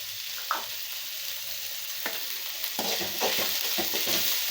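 Spices sautéing in a pan with turmeric, green and dried red chilies, coriander and curry leaves for rava kichadi: a steady, close sizzle with occasional stirring scrapes, growing slightly busier toward the end.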